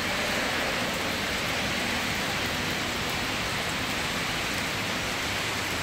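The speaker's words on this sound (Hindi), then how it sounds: "कितनी तेज बारिश" Heavy rain pours down steadily, a dense, loud, unbroken hiss with no voices.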